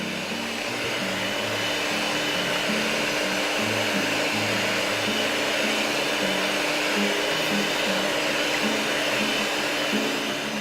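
An electric mixer whips egg whites to stiff peaks for a pumpkin cake, a steady, loud motor whir that runs unbroken from start to finish with no talking.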